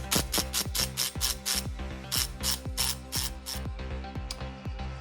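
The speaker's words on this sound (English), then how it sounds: "So the last thing for me to do is to twist on this new castle nut and give it a bit of a torque." Ratchet wrench tightening a new castle nut on a Porsche 924 rear wheel hub, close and crisp, with repeated quick clicking strokes in short bursts, each a fast rattle of pawl clicks.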